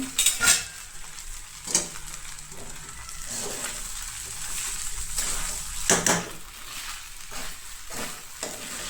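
Tapioca pearls (sabudana) being sautéed in a pan for fasting khichdi, with soft sizzling and occasional sharp scrapes and clinks of a spatula against the pan at a steady, unhurried pace.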